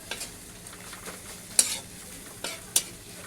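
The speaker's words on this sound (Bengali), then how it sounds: "এবার আমি দেখো একটু নেড়ে চেড়ে নেবো" Food frying in a pan is stirred with a utensil during home cooking for a festival meal, giving a steady sizzle broken by a few sharp scrapes and clinks against the pan.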